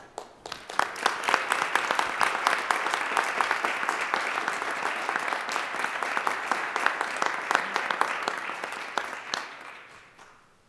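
An audience at a school committee meeting applauds an award recipient, with steady, fairly close clapping that builds quickly, holds for about ten seconds and then tapers off at the end.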